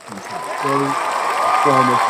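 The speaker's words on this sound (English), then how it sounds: "Let's do applause, cheering, everybody." Applause and cheering rise from a group watching a Manchester City versus Brighton Premier League match, clapping building steadily while voices shout over it.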